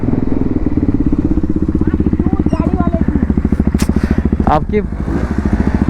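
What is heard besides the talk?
motorcycle exhaust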